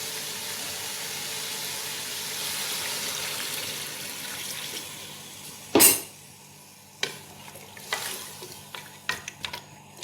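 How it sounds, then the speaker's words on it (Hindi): Steady sizzling of mutton in a pressure cooker, then a sudden splash of two glasses of water poured in, followed by scattered clinks and stirring knocks. "अब मैं इसमें 2 गिलास पानी के शामिल करूँगी"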